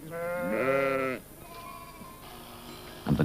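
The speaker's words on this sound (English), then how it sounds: "While sheep graze in the north" Sheep grazing on restored land in the north of a country park near Sheffield give one loud, drawn-out bleat at close range, followed by a quieter open-air background and a short rustle at the end.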